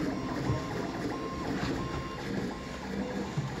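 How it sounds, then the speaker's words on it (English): A V-Baby CoreXY 3D printer warming up and printing a cube, with a steady mechanical whir and periodic faint beeping tones from the stepper motors, continuous and close. "Just warming up the printer,"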